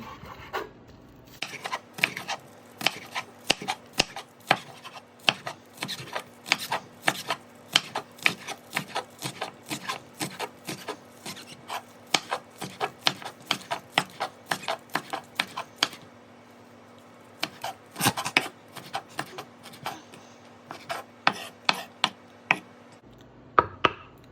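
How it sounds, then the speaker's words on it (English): A knife chops scallions on a cutting board in quick, uneven bursts of sharp taps, close and fairly crisp, pausing briefly partway through before the rapid chopping resumes, with no talk. "And then we're just going to chop everything else together."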